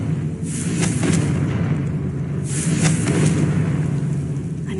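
Confringo spell explosions in the Hogwarts Legacy video game: two booming blasts about two seconds apart ring out over a steady low rumbling drone, with no voices.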